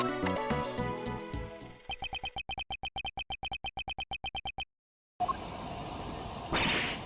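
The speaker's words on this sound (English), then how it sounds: "That's the sound of the balloon." Video game tape playback of a balloon: a short musical phrase gives way to a rapid train of evenly spaced high chirping pulses, then a brief silence and a burst of hissing noise with a rising whoosh at the end.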